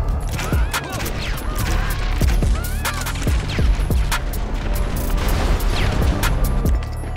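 Rapid bursts of video game gunfire and explosions hammer at a truck, a dense, steady barrage of sharp cracks and booms with no talking.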